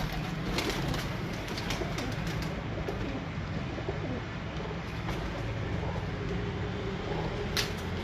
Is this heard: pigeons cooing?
yes